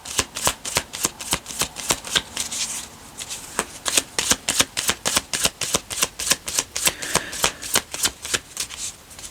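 Tarot cards riffled and shuffled by hand in a fast, even series of crisp, close flutters and snaps, a steady rhythmic patter with a brief lull before it resumes.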